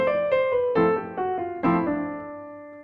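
Jazz chord comping played in the left hand on a keyboard, several sustained chord stabs struck at an uneven swing rhythm and left to ring and decay, close and clear with no talking.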